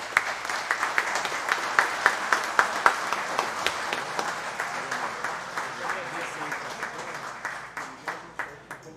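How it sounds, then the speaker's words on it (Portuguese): A city council chamber audience applauds at a formal solemn session, steady clapping from many hands that carries on for several seconds and gradually thins out. "Fábio, fica também as nossas palmas a você pelo brilhante trabalho que você fez."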